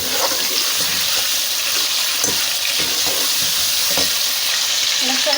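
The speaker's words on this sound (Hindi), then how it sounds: "गोश्त को थोड़ी देर फ्राई किया हमने।" Mutton pieces frying in hot oil with cumin seeds, onion, garlic and ginger for gosht, giving a steady loud sizzle with occasional stirring clinks and scrapes, no voices.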